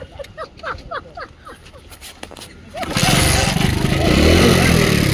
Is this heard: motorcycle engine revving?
yes